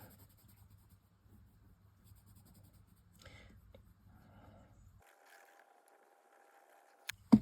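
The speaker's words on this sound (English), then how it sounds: "we're just putting on, whoops, a bit of underlying colour with the pencil quite flat" An oil-based coloured pencil held flat lays down soft, faint scratchy strokes on paper, a quiet papery rubbing with brief pauses and a small bump near the end.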